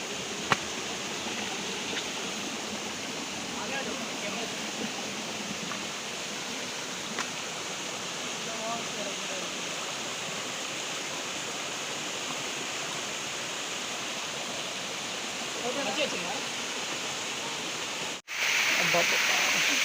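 Antharganga waterfall near Hyderabad, a loud, steady rush of falling water that fills the whole scene close by, constant throughout with a brief break near the end.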